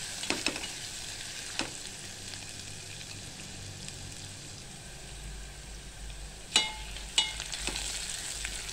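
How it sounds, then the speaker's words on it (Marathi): Grated ginger and garlic frying in hot oil for dal khichdi, a steady close sizzle that holds throughout, broken by a few clacks of a stirring spoon against the pan. "आता हे सगळं आपल्याला छानपैकी असं लसूण लाल होईपर्यंत आपल्याला सगळं परतून घ्यायचंय।"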